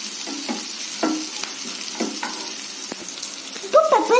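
Ingredients for a drumstick leaves soup sauté in a pan with a soft, continuous sizzle. A utensil scrapes and stirs in repeated strokes, growing louder near the end.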